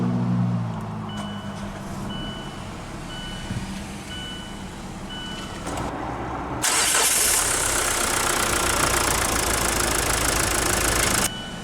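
A 2019 Mazda CX-5 Signature with a 2.2-liter twin-turbo diesel inline-4 starting by push button: quiet chimes and a low idle, then the engine catches into a steady, fairly loud hum that holds for several seconds before easing off.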